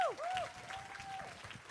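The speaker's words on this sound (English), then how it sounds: "please, let's give a round of applause for all of our wonderful judges" An audience at the India Michigan pageant applauds the judges. The clapping is brief and steady, with a high whistling tone rising and falling over it at the start.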